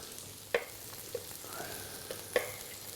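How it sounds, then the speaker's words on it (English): Onions cooking slowly in a pan toward caramelizing, a soft steady sizzle with a few faint clicks of stirring, close and quiet, no talking. "the idea here is to cook the onions slowly for about 6 or 7 minutes, just as they tenderize down and caramelize naturally"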